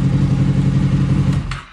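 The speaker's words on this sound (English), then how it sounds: "We'll stop the engine." A Honda VFR800 VTEC motorcycle engine idles steadily and loudly up close during servicing, then cuts off and fades away at the end.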